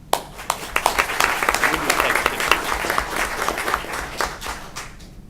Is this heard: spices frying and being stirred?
no